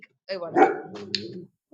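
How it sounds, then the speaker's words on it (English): A pet dog barks indoors at home, a few short close barks mixed with a person speaking over them, ending in a brief yip. "so that was my dog for the listeners."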